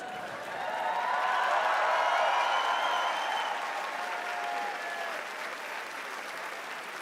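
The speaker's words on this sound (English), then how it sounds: "Thank you for cheering." A large crowd cheers and applauds for the winner of a men's World Cup bouldering final in Prague, a steady, dense wash of clapping that swells and then slowly eases.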